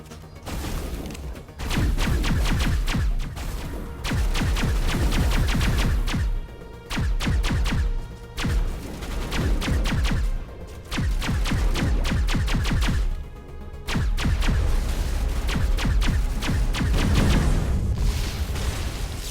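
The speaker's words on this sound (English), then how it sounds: "I like how Garrus' weapons were like loading up" Weapons fire in the Mass Effect video game, with loud repeated bursts of gunshots and booms broken by short pauses, sounding like a sustained firefight throughout.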